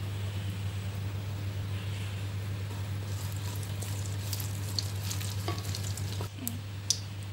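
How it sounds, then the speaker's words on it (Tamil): Mustard seeds splutter in hot oil in a kadai for Tamil prawn thokku: a steady close hiss under a low hum, with scattered crackles and pops growing toward the end. "எண்ணெய் காஞ்சிச்சு, கடுகு போட்டுக்கோ."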